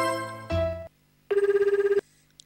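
Telephone ringing in the Tokimeki Memorial Girl's Side 3 video game: two short electronic ring bursts separated by a brief pause, loud and clean with no other sound around them.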